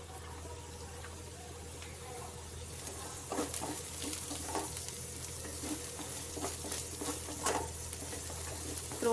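Finely chopped carrot and beans sizzle in a pan for mushroom fried rice, a continuous close frying hiss with intermittent scraping and stirring clatters that grow busier in the second half.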